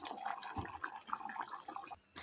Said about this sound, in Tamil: இப்போ வந்து இந்த வேக வச்ச பாசிப்பருப்பை இதில் ஊற்றிடலாம்.